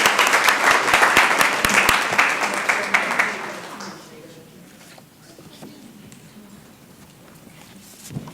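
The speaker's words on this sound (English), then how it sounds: "Let's give them a warm round of applause." A council meeting audience gives a warm round of applause for an animal rescue team, dense clapping for about four seconds that then tapers off into quiet room murmur.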